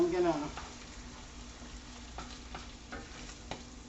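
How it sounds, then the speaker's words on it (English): Cheesesteak filling for Philly cheesesteak hamburgers is stirred as it fries in a pan, giving a steady low sizzle with a few scraping taps of the spoon, fairly quiet and close, with no talking. "stir this up a little bit, and it is done"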